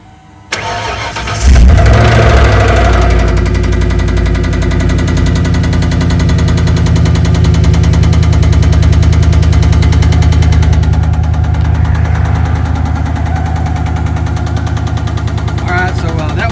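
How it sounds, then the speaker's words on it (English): A 1994 Ford F-150 pickup engine cranks on a cold start and catches, then settles into a loud, steady but slightly uneven rough idle that runs on continuously. "we'll give it a cold start, and then we'll just kind of listen to the engine"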